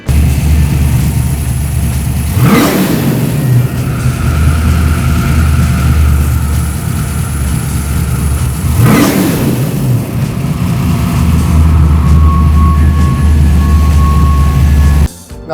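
A carbureted engine fitted with a Holley 4150 carburetor revs up loudly as it moves from the primaries onto the secondaries. The engine note holds steady and continuous, with two sharp surges and no hesitation.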